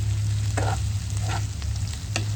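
Chicken pieces fry in coconut oil in a pan with a steady, loud sizzle, broken by a few scraping stirs of a utensil and no voices.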